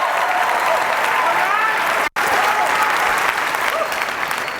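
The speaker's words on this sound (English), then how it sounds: "Let's clap it up." An audience at a business keynote applauds in a dense, sustained wash of clapping with crowd noise, with a brief dropout midway before the applause continues.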